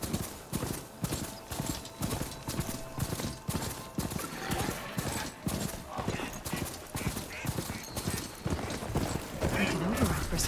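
Steady galloping footfalls of a ridden machine mount in Horizon Forbidden West, a quick regular rhythmic thudding that carries through the whole stretch with no talk, close and fairly loud.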